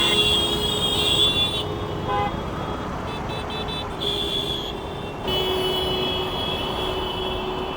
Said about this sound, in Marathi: आणि असे छोटे लोक नुसते हॉर्न देत राहतात.